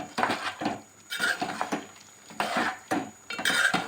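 Stirring chicken with sliced tomato and green chillies in a pan, heard as close, irregular scraping and clinking of a utensil against cookware, moderately loud, with no talking.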